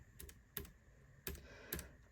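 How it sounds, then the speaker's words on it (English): Keystrokes on a Keychron K3 keyboard, a handful of quiet, crisp clicks spaced irregularly, close and alone without talk. "The keyboard itself, typing experience is actually pretty good."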